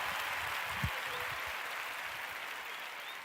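Crowd applause plays as a quiet, continuous hiss of many hands clapping, with a few louder individual claps near the start.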